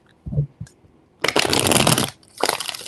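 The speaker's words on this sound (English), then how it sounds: "3 shuffles." A deck of tarot cards is shuffled at close range in two crisp, rustling riffles, the first long and steady, the second shorter, after a few soft handling taps and no talking.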